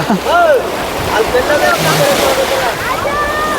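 Waves wash and slosh continuously against the shore of the full KRS dam reservoir backwaters, with wind noise and voices talking over the water.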